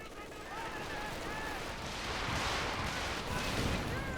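A Stuka barrage in Company of Heroes 2 rumbles as a dense wash of explosions and gunfire with whistling sounds over it, building steadily louder while a commentator talks.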